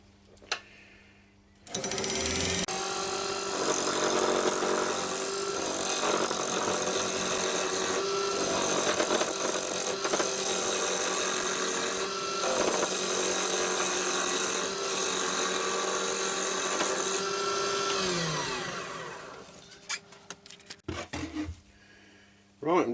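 Yew wood turned on a lathe while a big chunk is cut away, a loud sustained rasping and scraping over the spinning whine that lasts about eighteen seconds before tapering off into quieter taps.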